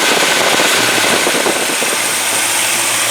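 A 1978 GMC engine fitted with an Edelbrock intake and carburetor runs steadily at close range, its loud, even rumble and exhaust drone filling the whole stretch without any talking.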